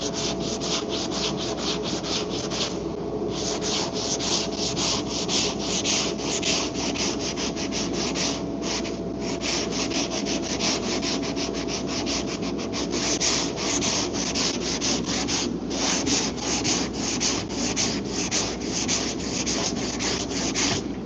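A car body panel on a Q50 twin turbo is hand sanded with a long block, a steady rasping scrub of rapid back-and-forth strokes running continuously, close and even, with no talking.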